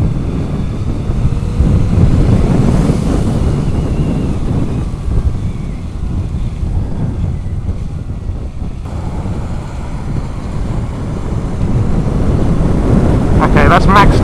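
Heavy wind buffeting on a Zero S electric motorbike ridden at full power around 70 mph, a steady broadband rush with low rumble throughout and a voice speaking over it.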